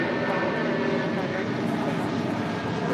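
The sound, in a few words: United Airlines Boeing 757-200 taking off at LAX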